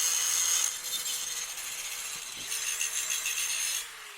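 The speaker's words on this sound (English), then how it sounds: "I needed to cut the corners off of the dados" Wooden dados on a modern dining table build being trimmed at the corners, a steady scraping, rasping cut with repeated rubbing strokes, fairly quiet and close, with no talking.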